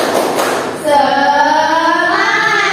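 A few quick hand claps, then a primary school class chants "Tepuk semangat" together in a drawn-out, sing-song call, loud and close.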